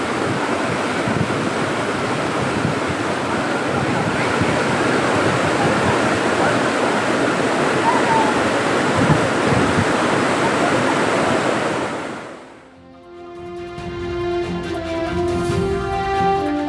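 Floodwater surges loudly and continuously through swollen water bodies near Tindivanam after heavy rain. The steady roar cuts off near the end, and other tonal sounds follow.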